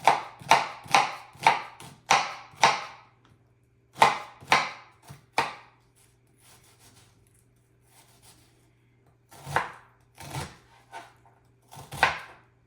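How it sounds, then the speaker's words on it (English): Knife chopping ingredients for Italian-style macaroni on a board: quick bursts of sharp taps in rhythmic runs, a pause, then a few slower isolated chops, close and clear. "Just gonna chop a little away here. You don't necessarily want to chop with the end of the knife."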